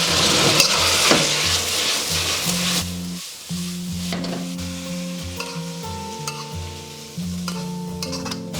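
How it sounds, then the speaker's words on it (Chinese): Pan stir-fry seasoned with sugar and soy sauce over low heat, with a loud continuous sizzle and repeated scraping stirs of a spatula against the pan, close and without talk. "再淋1圈酱油，然后给它翻炒均匀"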